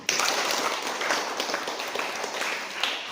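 A group claps together at the close of a class session, a short, steady wash of applause at moderate loudness with no talk over it.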